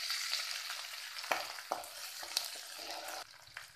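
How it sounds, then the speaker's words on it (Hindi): Minced garlic and ginger sizzle in hot oil in a pan, a continuous close frying hiss broken by a few sharp stirring scrapes and clicks. No one speaks. "थोड़ा सा मैं अदरक भी डाल देती हूँ, और दोनों चीज़ों को हम भून लेंगे।"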